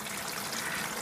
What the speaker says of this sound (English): it's flowing and it's draining into the bin